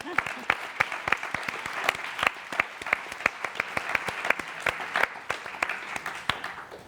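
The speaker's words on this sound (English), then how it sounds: "Big round of applause for you." Audience applause greets a guest at a Q&A event for women business leaders, a steady patter of many hands clapping at moderate distance with some brighter individual claps, continuing without a break.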